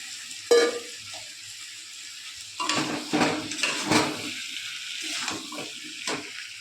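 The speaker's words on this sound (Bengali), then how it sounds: "দিয়ে একসাথে ভালো করে কষিয়ে নিই" Fried potatoes and fried pointed gourd tossed with onion and tomato in a pan, giving a steady low sizzle with several scraping stir strokes and clatters of a spatula against the pan.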